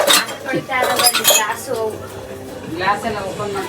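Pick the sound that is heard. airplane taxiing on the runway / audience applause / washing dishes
washing dishes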